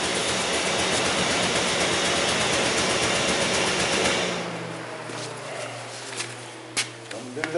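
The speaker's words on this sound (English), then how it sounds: "It runs with a misfire, obviously." An 2003 Jeep Liberty engine running with a misfire: a rough, loud mechanical churning that cuts out about halfway through, leaving a low hum with a few faint clicks and knocks.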